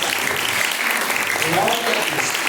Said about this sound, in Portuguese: Aqui, palmas, louva, glória a Deus